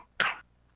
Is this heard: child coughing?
yes